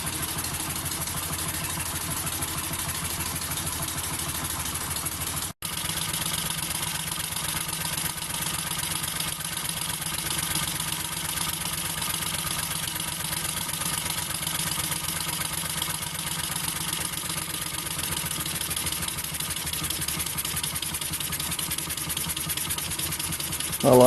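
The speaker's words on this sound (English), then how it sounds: "I like these when they're just ticking over, just purring away." A model steam engine runs on compressed air at low revs, ticking over with a steady, smooth, even chuff and faint mechanical rattle, sustained close-up and unchanging throughout.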